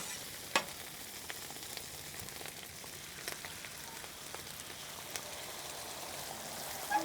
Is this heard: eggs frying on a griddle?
yes